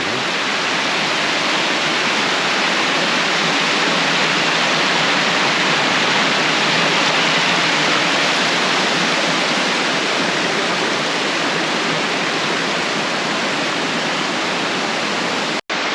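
A mountain valley stream pours over a broad, flat rock slab on Daeyasan, making a loud, continuous rushing roar that holds steady throughout, close by and with no voices.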